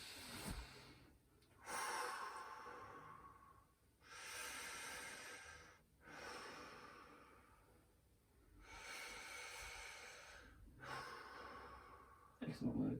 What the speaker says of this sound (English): So take some deep breaths for me.